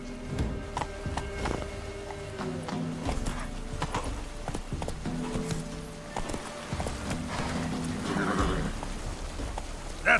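In The Witcher 3, Geralt's horse Roach clip-clops along with quick, regular hoofbeats on the ground, moderately close. A soft rain-like patter sits in the background, and a brief sound near the end could be a whinny.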